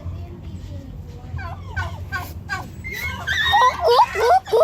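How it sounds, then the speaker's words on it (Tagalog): Turkeys gobble and warble in quick, rising bursts that grow louder toward the end, with people chatting in the background. "Bidyoan mo yung pabo, Kurt."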